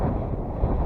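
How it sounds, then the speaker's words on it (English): Strong gusty wind at an airfield buffets the microphone in a loud, dense rumble that fills the whole moment, with no voices. "when I say it's windy today, it's probably the windiest I've ever flown this plane."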